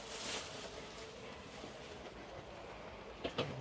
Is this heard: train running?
yes